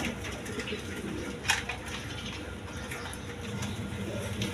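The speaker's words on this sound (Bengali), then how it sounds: "এখানে এক পেয়ার রাসগোল্লা কবুতর আছে, কোয়ালিটি সম্পন্ন কবুতর" A pair of Rasgolla pigeons coos softly amid a steady background hum, with a brief flutter-like burst near the middle.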